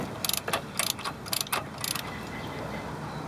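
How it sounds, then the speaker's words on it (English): A regular ratchet backs out brake caliper bolts in short bursts of quick, close clicking, several rapid clusters separated by brief pauses, with no talking. "now we can use a regular ratchet to get both bolts out completely"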